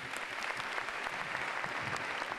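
Concert audience applauding the orchestra at a tribute concert, a dense, even wash of clapping heard from within the hall, steady throughout with no voices over it.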